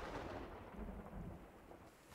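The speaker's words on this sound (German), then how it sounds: "Da haben wir den Regen." Rain and rolling thunder in the survival video game Sons Of The Forest, a soft, steady wash of rainfall with low rumbling swells underneath, faint and distant.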